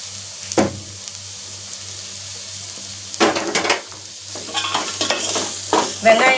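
Onions being stirred and sautéed in a pan give a soft sizzle under several bursts of spoon scraping and clinking against the pan, with quiet gaps between.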